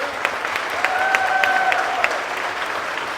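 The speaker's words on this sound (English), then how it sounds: "Please give them a nice cheer." Applause and cheering from a cruise ship audience aboard Adventure of the Seas, honoring Korean War veterans: steady, fairly close clapping with a few sharp individual claps and a brief whistle over the crowd.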